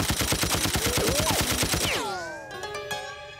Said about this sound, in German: Ziehen Sie doch bitte Ihren Colt und pumpen Sie die arme Kreatur hier voll mit Blei, Herr Luke.